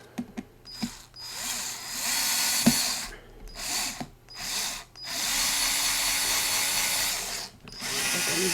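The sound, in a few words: power drill drilling a hole in a workbench project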